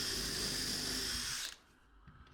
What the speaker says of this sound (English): So I'm just going over now in with some countersink holes,